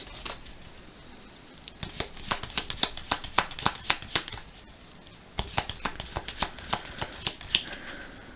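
Oracle deck shuffled and then cut, crisp papery flutters arriving in two separate bursts with a short lull between them, close and soft, no voices.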